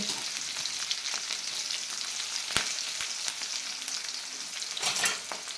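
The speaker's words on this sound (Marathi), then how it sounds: "मिरच्या आणि लसूण तांबूस रंगावर भाजून घ्यायचं आहे" Green chillies and garlic fry in hot oil, giving a steady, close sizzle throughout with small crackles and a few sharper pops and spatters. No one speaks.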